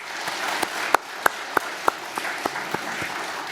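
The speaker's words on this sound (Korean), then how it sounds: "하나님께 다시 한번 큰 영광의 박수 올려드리겠습니다." A church congregation claps during a Lenten dawn prayer service, scattered, uneven hand claps with several sharp louder ones standing out over a soft background.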